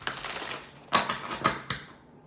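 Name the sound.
shuffling tarot cards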